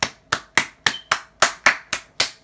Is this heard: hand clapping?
yes